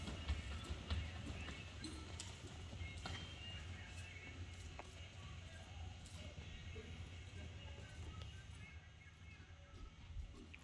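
An Appaloosa gelding walks under a rider during a training session, its hooves giving soft rhythmic clip-clops at a distance, faint against light background noise.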